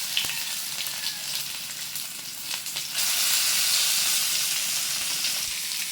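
Pieces of soft farmed fish fry in hot oil with a continuous close sizzle, and a brief clatter comes as they are flipped before the hissing swells louder.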